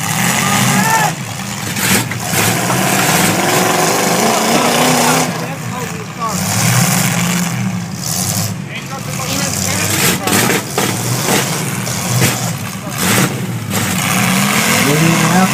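Derby trucks at a county fair truck derby in Martin County, Indiana, engines rumbling and revving loudly in surges, with an announcer talking over the din.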